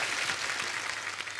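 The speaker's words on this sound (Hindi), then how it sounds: "एक बार जोरदार तालियां" A studio audience at a comedy talk show claps together in a dense, steady burst of applause, brief and fairly loud.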